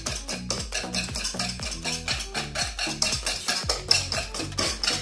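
A spoon stirs flour into a mixture for an Italian Marche-style zuppa inglese, lifting out the lumps. The metal scraping against the bowl sounds close and steady, a quick repetitive rhythm with some dull clinks, and no one speaks over it.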